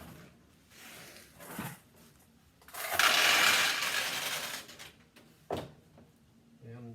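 A 1977 Nishijin Model B vintage pachinko machine runs with a burst of ratcheting, clattering mechanical noise and rattling balls, loudest in the middle stretch, with some speech-like sounds around it.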